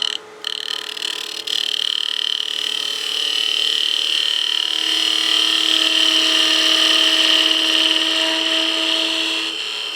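A half-inch spindle gouge cuts wood on a spinning lathe while turning a crank-top pepper mill, giving a steady, loud, continuous high-pitched hiss with a faint motor hum underneath, sustained throughout without talk.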